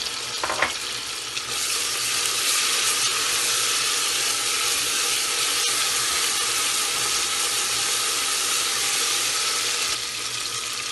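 Garlic and ginger sizzling in hot oil with cumin for chana daal lauki, a loud, steady, close frying hiss that runs unbroken throughout, with a brief clatter near the start.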